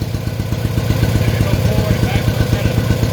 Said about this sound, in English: So I'm going to move the small tractor out of the way and then maybe go forward.